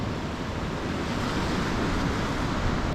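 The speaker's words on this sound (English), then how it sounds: "Just look at those rebound waves coming off the rocks." Waves break and rebound off rocks piled on a beach with groynes, making a loud, steady wash of surf and wind noise up close that continues throughout, with no talking.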